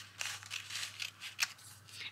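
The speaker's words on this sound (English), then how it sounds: "Let's cut some of these up as well." Scissors snip through sheets of journaling paper, heard as a quick series of soft, close cutting strokes over a faint background hum.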